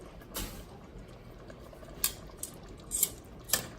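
Spoon scraping and clinking against a pot of creamy pumpkin chicken chili, a few quiet separate knocks spread over the stretch with low kitchen background and no talk.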